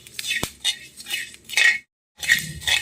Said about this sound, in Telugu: ధనియాలు జీలకర్ర వేయిస్తున్నాను.